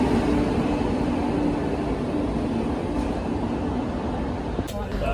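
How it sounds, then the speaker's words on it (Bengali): Padatik Express passenger train pulling into platform number 1 at a station, a loud steady rumble of wheels and rolling stock filling the clip with constant broadband noise and a brief clank near the end. "9:30 পদাতিক এক্সপ্রেস প্ল্যাটফর্ম নাম্বার 1-এ চলে আসলো।"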